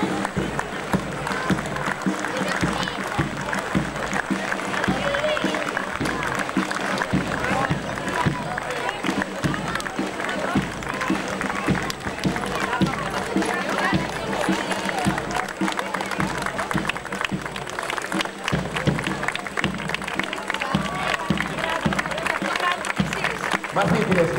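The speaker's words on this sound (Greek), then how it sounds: "Επίσης, ένα δυνατό χειροκρότημα στους μαθητές των εργαστηρίων ειδικής επαγγελματικής εκπαίδευσης και κατάρτισης." A crowd applauds students marching in the 14 May 2019 parade in Komotini, a dense, continuous wash of clapping and crowd noise that holds steady and loud for the whole stretch.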